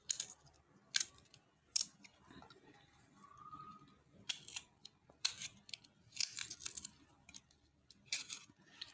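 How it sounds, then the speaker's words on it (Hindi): Knife finely chopping vegetables into small pieces while preparing food, heard as irregular sharp cutting bursts, close and moderately loud, with quiet gaps between strokes. "बारीक बारीक काट लें।"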